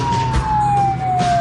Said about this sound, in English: Give him a touch of the siren.